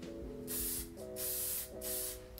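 Three quick hisses of hairspray from an aerosol can, each about half a second, close up with a low hum underneath.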